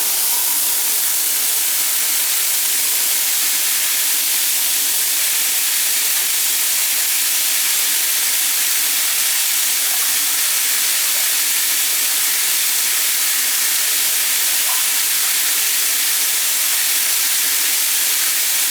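Water swirling down a slow, backing-up bathtub drain, heard as a steady, even rushing hiss throughout, close and continuous with no talking.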